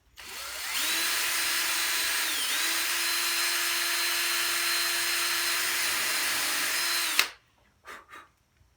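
A power drill cuts a countersink into pine, whining steadily and loudly for about six seconds with a brief dip in pitch partway through, then stops, followed by a couple of faint knocks.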